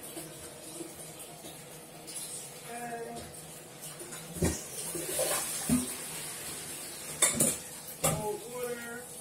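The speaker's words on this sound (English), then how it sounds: "Rinse these good." Blackberries rinsed under running water in a kitchen, with a steady faucet stream and intermittent clinks and knocks of a bowl or dishes, a few louder clatters near the end; no talk.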